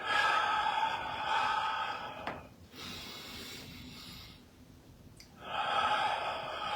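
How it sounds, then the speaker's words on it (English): Slow, deep breathing in through the nose and out through the mouth, heard close up as two long airy breaths separated by a quiet pause, with no talking. "In through the nose, out through the mouth."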